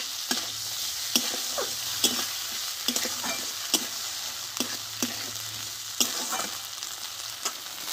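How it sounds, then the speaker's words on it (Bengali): A ground paste of ginger, green chili and whole cumin sautés in a hot pan, with a loud continuous sizzle and regular sharp scrapes of a spatula roughly every second, close up and without voices. "এই মশলাটা একসঙ্গে ভালোভাবে কষে নেব"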